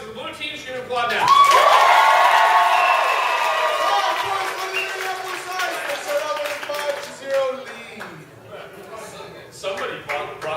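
Audience at an improv comedy show erupts into screams, cheers and clapping, loud at first then tapering into scattered claps and shouts with voices over the noise.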